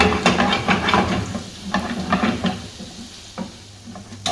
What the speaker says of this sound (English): So take your garlic, drop it in your oil. Just cook it for a little bit